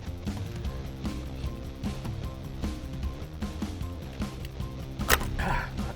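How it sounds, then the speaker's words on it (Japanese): A socket wrench ratcheting to remove the 16 mm steering wheel bolt on a Mini Cooper R56: rapid, close metallic clicking under a steady mechanical hum, ending with a sharp knock and a brief clunk. "こちらの、ソケットで外していきます。"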